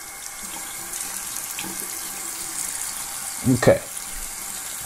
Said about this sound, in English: I just want you to see how the water just kind of rolls off the glove.